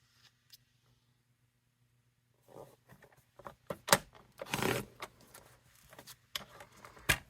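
Stampin' UP! Dandy Designs patterned paper being trimmed to size with a paper cutter: quiet, scattered scraping and clicking strokes, with one longer sliding cut in the middle, close and faint, with no talk.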